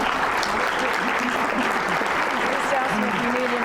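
Loud, sustained audience applause at a presentation on smart cities, steady clapping from a crowd with faint voices mixed underneath.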